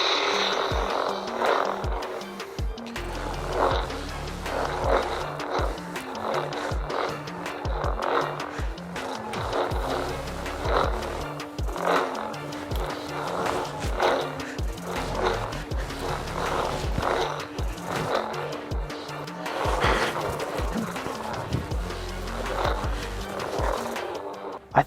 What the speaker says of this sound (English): You can spin this like incredibly fast.